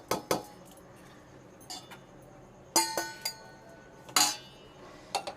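Whole spices being tipped into a large pot for raw mango pickle, giving a series of sharp metallic clinks and rattles, some bunched close together, from a quiet kitchen with no talking.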